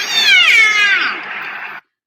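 A biphonic call from an AG pod orca recorded in Southeast Alaska, a high whistle layered over a squealy meow-like tone, sweeping and wavering for under two seconds, clear and close with no talk.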